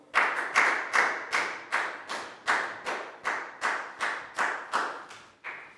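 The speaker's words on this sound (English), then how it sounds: "And guys, big round of applause for everybody because that was a great job." A Year 4 health class claps for everyone at the end of an exercise lesson, about a dozen evenly spaced claps in a steady rhythm, close and clear with no talk.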